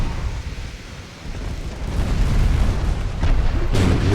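Torpedo hits exploding against enemy ships in a naval battle game, heard as a steady low rumbling roar of booms that swells midway and ends with a sharper burst.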